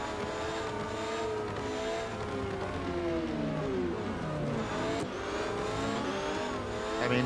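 Race car engines in the Real Racing 3 game during a Formula Future event, several high-pitched engines revving and shifting with rising and falling whines, loud and close, alone without talk.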